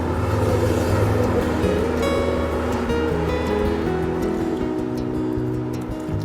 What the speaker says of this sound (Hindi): तो इसलिए थोड़ी बहुत ट्रैफिक की साउंड भी आपको सुनाई दे रही होगी।